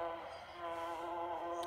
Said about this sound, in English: This one's garden themed, so it's got really soothing sounds like buzzing bees